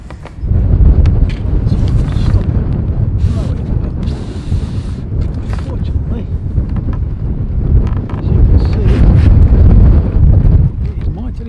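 Strong wind buffets the microphone in loud, continuous gusts, with faint clinks and movement underneath, beside a narrowboat.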